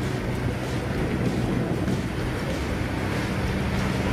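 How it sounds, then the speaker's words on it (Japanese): Strong wind roars steadily across the deck of a small ferry running from Okamura port to Ōshita port, a dense continuous rush with a low boat rumble beneath, loud and unbroken throughout. "風が強くて"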